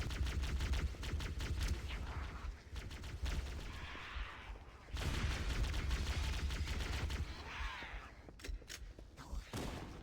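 Pistol gunfire in the video game Halo CE comes in rapid sharp shots and bursts, loud and close, with brief pauses between volleys and no talking.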